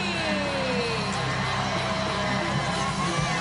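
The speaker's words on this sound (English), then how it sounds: "The crowd goes crazy" A wrestling arena crowd roars wildly as Jeff Hardy makes his entrance at Lockdown 2012. The dense, steady wall of cheering and shouting holds at full strength throughout, with no letup.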